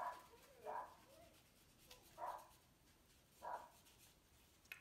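A neighbours' dog barking outdoors, heard as three faint, spaced barks at a distance under low background noise.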